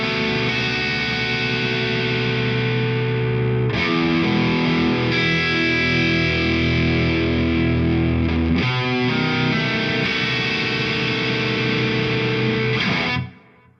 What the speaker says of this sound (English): The Overdrive is a simple distortion that comes with,